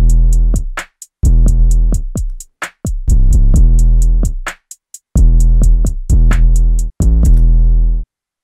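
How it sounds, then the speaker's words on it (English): A basic programmed drum loop built in FL Studio, with a flat-sounding kick and no sidechaining, plays alone as steady repeating hits with a brief gap midway, loud and dry. "I've got this very basic drum loop that I just programmed out real quick."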